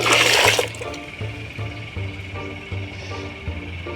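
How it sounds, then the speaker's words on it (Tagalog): Aquarium water is poured out during a betta fish tank water change: water splashes briefly, then trickles and drips steadily close by, over a low hum and faint insect chirping. "ganyan lang ako magbawas ng tubig"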